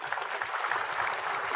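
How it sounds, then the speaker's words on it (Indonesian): Crowd applause at a formal ceremony attended by special forces troops, a dense continuous burst of clapping with no voices over it. "Tepuk tangan semuanya."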